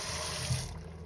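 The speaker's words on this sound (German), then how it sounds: "warmes Wasser rein." Warm water runs briefly from a tap into frozen peas for a blended dressing, a short steady faucet stream that trails off.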